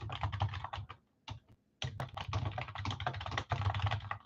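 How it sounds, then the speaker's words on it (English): Loud, rapid typing on a computer keyboard, close clattering bursts of keystrokes with two short pauses, and no talk. "You guys get to hear my loud typing that you love."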